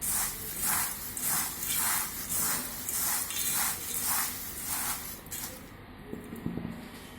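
Flax seeds poured into a bowl of millet snacks and stirred in, a rhythmic, repeated rustling and scraping in regular strokes at moderate level, fading to softer scattered clicks near the end.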